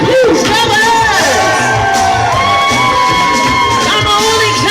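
A large crowd cheers, whoops and shouts continuously and loudly at a show at Universal Studios, with music and a voice under the noise.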